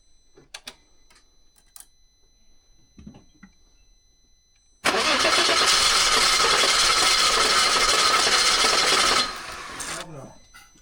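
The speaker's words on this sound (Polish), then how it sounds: "Ale rozrusznik chodzi słabawo." A loud, steady mechanical whirring grinds on for several seconds after some quiet shuffling, then cuts off abruptly: a weak starter motor cranking the cold engine of an Audi A6 C5 that won't catch.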